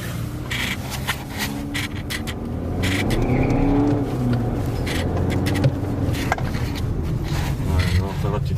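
An Audi A4 pulling away and accelerating through a parking lot, its engine note rising and holding steady at close range, with some vehicle rumble and light scraping noises.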